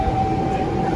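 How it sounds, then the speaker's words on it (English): A Sydney Tangara train departing Circular Quay station, a steady rumbling drone with a sustained tonal whine, close and even for a brief moment. "Oh, the tangara's definitely departing."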